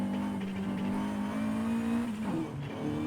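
Car engine in Forza Horizon 5 revving and accelerating steadily through a downhill run, loud and continuous, with a brief tire squeal near the end and no talk.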